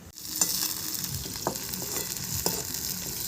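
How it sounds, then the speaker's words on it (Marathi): Roasted eggplant is stirred into a sizzling bharit in a pan, with a continuous frying hiss and a few soft scraping strokes of the spoon close by. "आता मी हे भाजलेलं वांगे मिक्स करणार आहोत छानपैकी त्यात"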